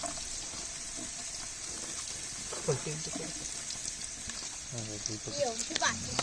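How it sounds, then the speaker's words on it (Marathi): Onion frying in hot oil for a chicken curry cooked outdoors by a river, a steady soft sizzle running throughout with scattered stirring clatter and speech on top. "तेल गरम झालंय आता मस्त कांदा टाकू अर्धा आहे."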